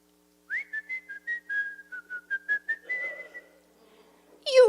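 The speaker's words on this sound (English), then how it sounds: "Whistle, daughter, whistle" A performer whistles a bright, lilting melodic phrase in the middle of a folk song at a birthday concert, the notes clear and steady, trailing off before an audience stirs and the next sung line begins.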